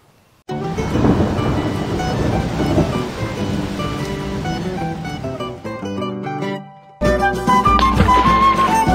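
Heavy rain and rumbling thunder in the semi-arid sertão, a loud continuous downpour with a deep roll that briefly drops away before a renewed burst of storm noise.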